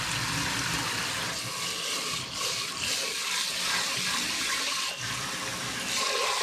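Running tap water pours steadily over rice as it is rinsed to wash off the starch, a continuous close splashing hiss with small shifts in flow and no voices.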